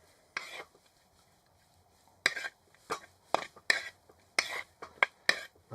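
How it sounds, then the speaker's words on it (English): Seasoning and whole grain mustard are mixed in a pan inside a hexagon hot tent, giving sharp, intermittent scrapes and clinks of utensil against pan, close and fairly loud, after a quiet opening. "Just give that a good mix."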